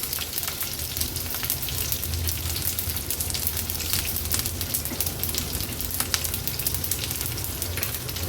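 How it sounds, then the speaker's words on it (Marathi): Green chillies and curry leaves dropped into hot oil for a tempering sizzle loudly and continuously, a dense rain-like crackle that stays even from start to end, close by with no speech. "आता हिरवी मिरची आणि कढीपत्त्याची पानं घालणार आहोत"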